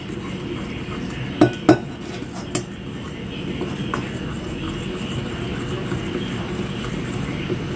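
A utensil stirs pancake batter with fresh milk in a bowl, sounding as a few sharp clinks early on followed by a soft, steady scraping swish throughout.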